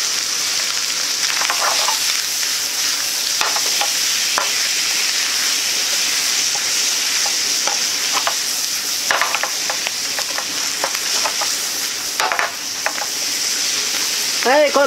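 Cabbage and tuna stir-frying in a pan with a splash of soy sauce, a loud, continuous close-up sizzle broken by repeated scraping and clacking of a utensil stirring, with no talk over it.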